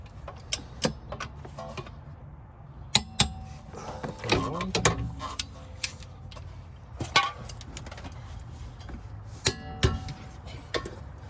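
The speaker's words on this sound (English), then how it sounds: "So I'm just going to get my torque wrench in here." A torque wrench tightens caliper bracket bolts on a Kia Forte during a brake job, giving soft ratcheting ticks and a couple of sharper clicks over faint shop background noise.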